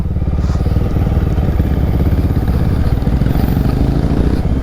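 A motorcycle engine hums steadily and loud while riding on a Kerala road trip, a constant low droning throb with no clear pauses.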